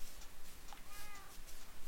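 A cat in the Minecraft video game lets out a single short meow midway through, set against quiet ambient game sound with no talking.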